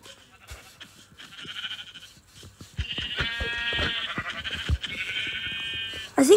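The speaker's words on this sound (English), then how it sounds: "Another sheep!" Sheep bleat in a video game, a quieter call early on followed by louder, sustained wavering bleats overlapping one another, with scattered chatter and noise beneath.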